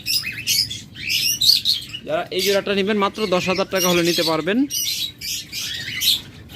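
Pet lovebirds in a breeding pair chirp and tweet in short bursts close by, with someone talking steadily over them throughout.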